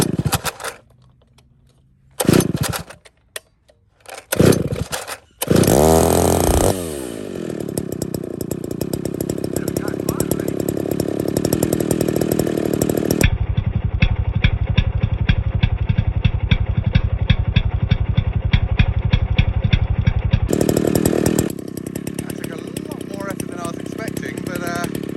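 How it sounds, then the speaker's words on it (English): A 1950s vintage chainsaw sputters through a few short bursts, then catches and runs continuously at a loud, steady roar, its pitch shifting as the throttle changes, close to the listener in a forest setting. "This is what it would have sounded like in the 50s in the forest."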